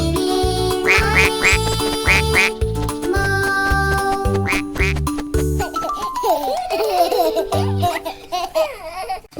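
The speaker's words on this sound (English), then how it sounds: "catch a duckling by the toe. If she quacks, then let her go." Cartoon duckling quacks repeat in a quick, regular series over bright nursery-rhyme music, loud and upfront, followed by looser chattering and giggling sounds.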